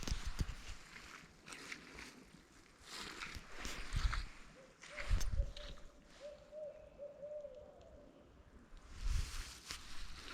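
A faint, hollow owl call sounds once in the distance over a quiet outdoor trail background with scattered rustling and bumps nearby.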